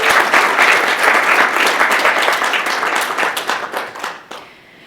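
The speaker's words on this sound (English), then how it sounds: "we can give her a big round of applause so she can feel that love and energy from a distance" A big round of applause from a conference audience fills the room, loud and sustained, then thins to scattered claps and fades out near the end.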